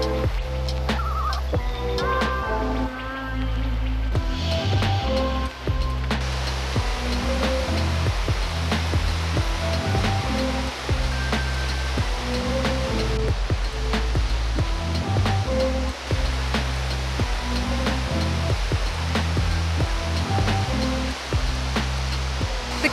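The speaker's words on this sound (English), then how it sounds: "now we're at Thunder Creek Falls" Thunder Creek Falls in New Zealand, a waterfall whose loud, steady roar of rushing water fills the whole span without a break.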